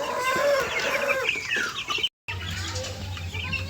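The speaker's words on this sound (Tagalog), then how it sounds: "ipasyal na naman tayo sa ating munting manukan" Chickens at a small backyard farm, including Sebright bantams, cluck and call nearby in overlapping bursts, with a rooster-like cry, a brief cut, and then steady low hum under the continuing clucks.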